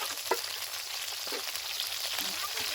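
Sambar with chillies simmers in a pot, giving a steady, hissing bubble with scattered small pops and a faint stir or two, heard close and alone.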